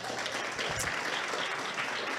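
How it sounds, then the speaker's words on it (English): An audience at an outdoor jazz stage claps steadily in dense, even applause, fairly near and unbroken throughout. "give them a round of applause"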